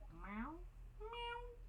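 A house cat meows twice in a room, a rising then falling cry followed by a steadier, tonal call, fairly close over a low background hum.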